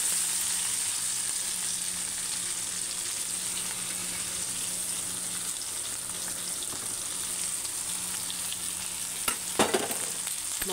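Ivy gourd pieces frying in a pan with garlic chili powder, a steady close sizzle filling the whole stretch, with a few sharper crackles and stirring scrapes near the end.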